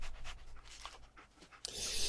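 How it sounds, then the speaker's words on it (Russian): A dog pants in Fallout 4, quick rhythmic breaths close by for about a second and a half, followed by a sudden louder hiss. "А песик-то здесь, кстати."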